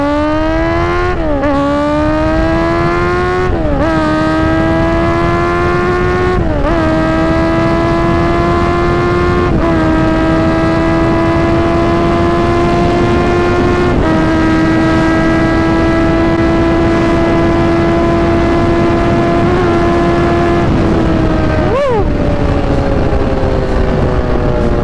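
A Kawasaki Z1000 motorcycle at a Kawasaki big bike event revs loudly and steadily, its engine note rising and falling through several throttle blips before one last hard acceleration near the end, with no talking.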